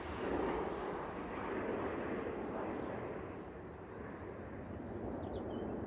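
A Ryanair Boeing 737 taxis at London Stansted Airport, its engines a broad, low rumbling roar that swells and eases slightly while holding steady at moderate distance, without speech.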